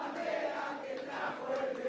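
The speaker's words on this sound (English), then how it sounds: "I love hearing the crowd sing these songs and stuff." A crowd in Buenos Aires sings together at a political election rally, a steady massed chant with a rock-concert feel, moderately loud and continuous with no individual voices standing out.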